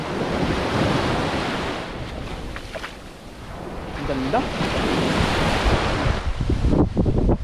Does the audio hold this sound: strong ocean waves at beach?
yes